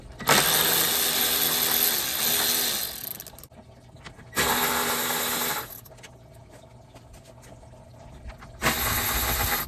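Fan shroud hardware comes off a 2011 Toyota Highlander with three close, loud bursts of a whirring power tool, one long and two shorter, separated by quieter gaps.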